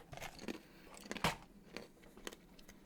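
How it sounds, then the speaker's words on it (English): Dried banana chips crunch close to the microphone as someone chews them, producing several crisp bites and cracks in an uneven rhythm, quiet overall with one louder snap, and nobody talking. "Sorry, I know the crunching's going to be loud."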